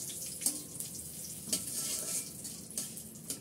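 About four tablespoons of ghee hiss and sizzle in a pan while biryani is cooked, with a steady frying crackle and a few brief stirring scrapes close by.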